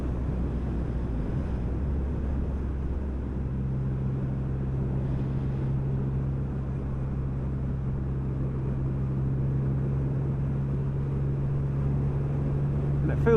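Triumph Rocket 3 R motorcycle cruising at 60 mph, just over 2,000 RPM, with a steady low engine drone under wind rush, holding an even tone throughout.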